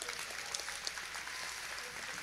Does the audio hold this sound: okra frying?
no